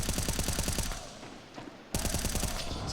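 Rapid automatic M4A4 rifle fire in Counter-Strike during a pro match, loud close bursts of evenly spaced shots, a brief pause with scattered faint sounds, then another sustained burst.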